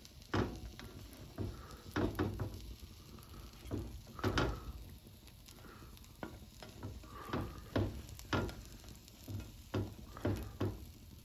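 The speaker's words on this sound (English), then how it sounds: "I can hear it start to sizzle." Soft crackling sizzle of a frozen pizza cooking in a hot pan, with intermittent louder clatters and scrapes of utensils or a lid over the steady frying hiss; no talking.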